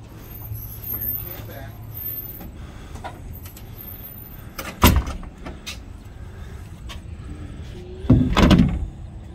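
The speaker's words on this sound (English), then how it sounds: "That was the door finishing shutting." An office door slides shut, giving two bursts, a brief clatter around mid-clip and a louder, longer rumble near the end, over a steady low room hum.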